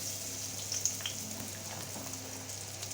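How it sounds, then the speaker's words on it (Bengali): Chopped onion frying in mustard oil gives off a soft, steady hiss and crackle close by, with no voices over it. "সরিষার তেল দিয়ে দেবো পেঁয়াজ কুচি"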